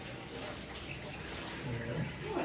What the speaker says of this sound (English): And spray it with water, not forcefully, but just Right.